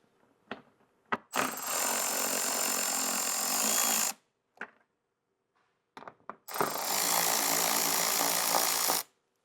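Ratcheting wrench backing out 10 mm bolts on a Toyota Tacoma front bumper during a fog light install, two sustained bursts of rapid clicking, each about three seconds, separated by short clicks and quiet gaps, close and clear.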